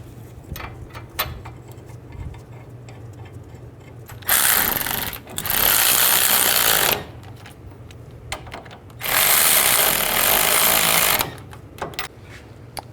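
Front brake caliper bracket bolts are tightened on a 2002-06 Chevy Avalanche. Two loud, sustained mechanical whirring bursts of a few seconds each stand out against a quieter background of small clicks.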